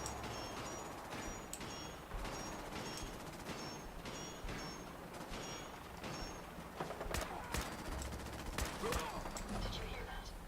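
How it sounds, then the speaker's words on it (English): Gunfire or nail-gun shots in the Fallout video game: a string of sharp, rapid cracks in uneven bursts, some clustered like automatic fire, over a busy game background. "I'm hearing a nail gun."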